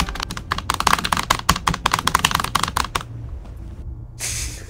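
Rapid, hard computer keyboard typing during play of the video game Escape the Backrooms, a dense burst of sharp clacking keystrokes for about three seconds, then stopping, followed by a brief hiss.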